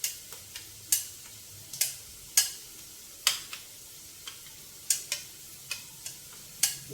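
A spoon stirs chopped ridge gourd into a curd chutney, giving sharp intermittent clicks and taps against the bowl, roughly once a second, close and fairly quiet with no talk.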